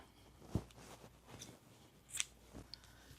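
Scissors snip through gray yarn during a crochet bag project, a few quiet close crisp cuts spaced apart in an otherwise hushed room.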